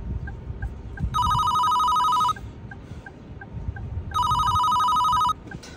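A telephone rings in two long electronic trilling bursts separated by a short pause, loud and close over a rumbling background.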